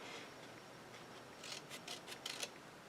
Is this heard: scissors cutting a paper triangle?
yes